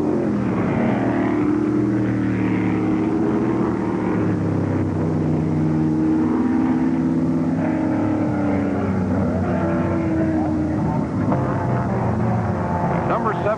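1965 Can-Am race cars, among them Dan Gurney's number 77 McLaren Ford, roar steadily around the Riverside circuit, engine drones overlapping at close range while a commentator talks over them.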